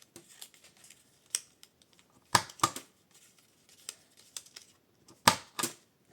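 The corners of a handmade paper envelope being rounded off make crisp, close snipping and cutting sounds, coming in irregular bursts of sharp clicks with quiet gaps between them.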